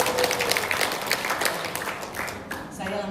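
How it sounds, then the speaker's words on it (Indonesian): A church congregation at a women's worship service claps together, a dense burst of applause that starts loud and gradually thins and fades over a few seconds. "Tepuk tangan buat Tuhan Yesus."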